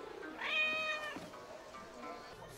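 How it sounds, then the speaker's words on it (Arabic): A cat in the video game Assassin's Creed Mirage lets out one clear, drawn-out meow, followed by a fainter trailing call over quiet background ambience. "تعالي يا قطة"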